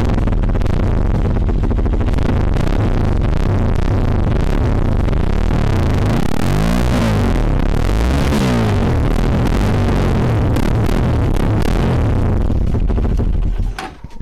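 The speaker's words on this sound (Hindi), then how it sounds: "तो गाड़ी का इसका एग्जॉस्ट का साउंड सुनते हैं कैसा है।" A loud, deep Bajaj Pulsar N250 dual-barrel exhaust rumbles steadily up close, swelling with a couple of throaty revs midway before settling back to idle.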